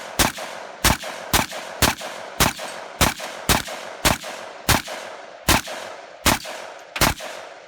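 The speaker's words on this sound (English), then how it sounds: "I'm going to establish my standoff with an AK platform." AK platform rifle fired on an outdoor range: thirteen sharp, loud shots in a steady rhythm about half a second to a second apart, each followed by a short echoing decay.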